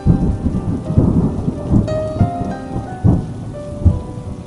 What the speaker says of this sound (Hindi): रास्ते में काफी बारिश हो रही थी। तूफान भी था